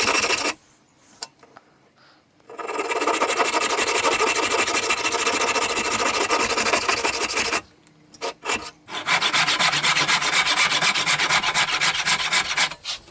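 A hand saw rasps through wood cutting dovetails in long, steady back-and-forth strokes, close and loud, with brief pauses between cutting bursts.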